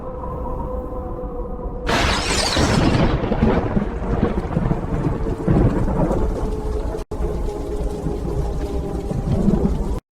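A thunderstorm over a city at night: a loud thunderclap bursts in and rumbles down, and heavy rain hisses steadily throughout. It is close and dense, with no voices.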